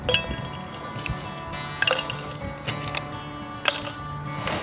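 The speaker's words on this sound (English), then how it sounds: "now you're gonna put your ice cubes in here" Ice cubes clinking into a cocktail glass while a violet daiquiri is made, a few sharp bright clinks near 0.2, 1.9 and 3.7 seconds over a quiet, faintly humming room.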